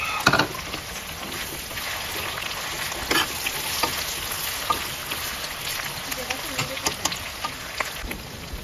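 Chicken pieces half-frying in a covered pan for a baby pineapple and chicken dish, giving a steady, close crackling sizzle with scattered louder pops throughout.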